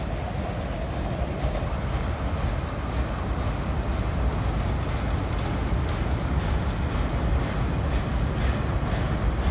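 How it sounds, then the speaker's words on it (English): A long Union Pacific freight train of boxcars rolls steadily past nearby, a continuous loud rumble with wheel clatter and no pauses throughout. "I think I finally see the end of the train coming."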